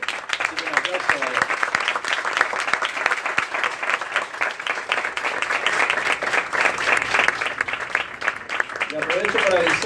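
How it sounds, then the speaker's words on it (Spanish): Audience at the close of a climate change debate gives a long round of applause, dense crisp clapping near and far with scattered voices and murmurs underneath. "Así que un aplauso."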